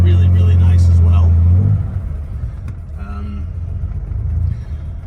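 A 1971 Aston Martin DBS with an RS Williams short-shift kit runs with a loud, deep engine rumble that drops to a steadier idle-like drone, heard from inside the car.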